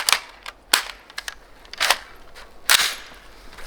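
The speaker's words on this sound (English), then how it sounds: "You push that detent and it unlocks and you're able to move the bolt." Sharp metallic clacks and clicks of an M16 rifle's charging handle working the bolt, a few distinct snaps spaced apart, close and crisp.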